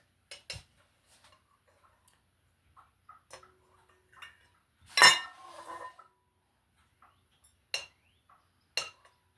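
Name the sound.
spoon scraping egg chalazae out of eggs in a bowl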